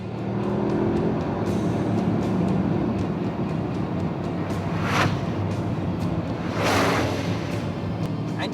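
A Bugatti Veyron in sport mode roars steadily and loudly under acceleration, with a broad sustained rush of engine and wind noise and two brief swelling surges.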